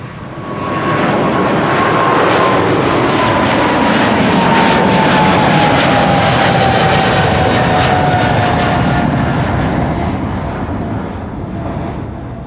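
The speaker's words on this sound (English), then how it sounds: "that was KLM Flight 757 to Panama City, 777-300" A KLM Boeing 777-300 jet at Amsterdam Schiphol airport roars past as a loud, continuous engine rumble with a descending whine, swelling in and fading slightly, with no talk.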